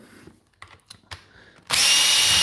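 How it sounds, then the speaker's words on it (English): A Makita power drill driver strips down a Dewalt tool, starting after a few light taps and clicks and then whirring loudly and steadily at close range. "So I'm using my Makita to strip it down."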